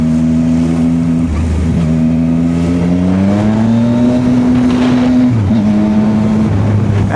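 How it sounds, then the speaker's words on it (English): Big motorcycle engine revving while riding in Ghana: a loud, close engine drone that climbs through the gears, drops and climbs again, continuous with wind noise and no voices. "we call these bikes power bikes or big bikes"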